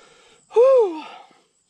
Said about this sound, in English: Please excuse my panting in this video and all the other ones.